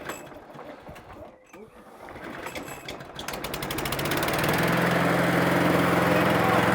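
A repaired lawn mower engine catches and revs up to a steady, loud running drone after some rattling mechanical fiddling, the engine note building and then holding constant.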